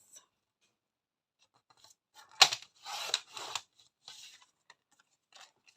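Scissors cutting paper or card for a folder pouch, a few short close snips and crisp rustles in an otherwise quiet room.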